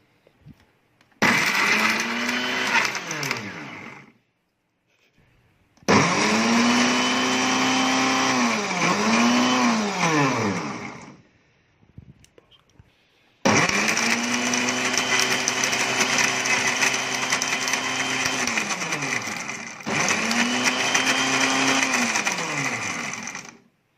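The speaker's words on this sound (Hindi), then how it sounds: "अब मैं आपको ग्राइंड करके दिखाता हूँ।" A mixer grinder blends onion with green masala ingredients in three loud, whirring bursts, each slowing and rising in pitch as the load shifts, with short silent pauses between runs.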